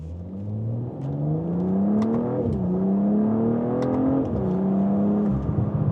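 A 2025 BMW M440i xDrive coupé engine and exhaust accelerate hard through gears, a loud rising drone that drops at each upshift and climbs again, heard from inside the car without talk.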